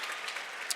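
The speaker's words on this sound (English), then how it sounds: "What are we clapping, Matt?" Esports casters at a Counter-Strike match on Train clap their hands, a brief flurry of fairly close claps with no talking.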